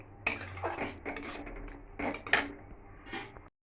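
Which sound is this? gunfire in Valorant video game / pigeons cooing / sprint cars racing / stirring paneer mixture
stirring paneer mixture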